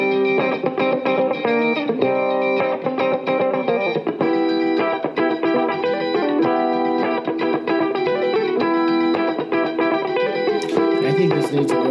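Bright, disco-style high guitar line played on a Schecter guitar, with effects, chorus and reverb, layered over a steady full mix of other parts, continuous and loud throughout.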